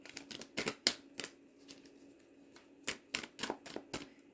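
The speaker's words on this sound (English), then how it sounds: "Interesting that I started shuffling" Tarot cards are shuffled by hand in quick bursts of crisp riffling clicks and slaps, nearby and alone, with short pauses between flurries.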